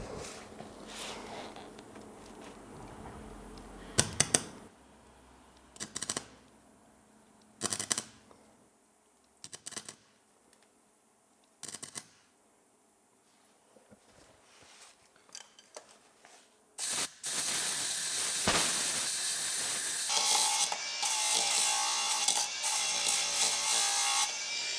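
Flux core welding with 0.6 mm wire on a very low setting, filling a small hole in the body of a 1994 Mercedes C-Class: several short crackling bursts with pauses, then a long, loud, continuous sputtering weld.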